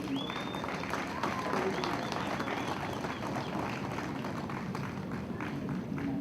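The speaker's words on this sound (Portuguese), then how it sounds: "Um aplauso para Tafi Shonan." A live audience claps at a tribute event, with steady, moderately distant applause and crowd murmur filling the scene while voices talk underneath.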